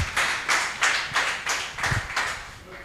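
Audience at a student bootcamp pitch day claps for a team, a rhythmic, fairly faint series of about eight clustered bursts of applause, with no speech during it.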